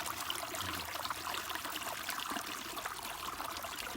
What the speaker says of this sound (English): How beautiful waterfall.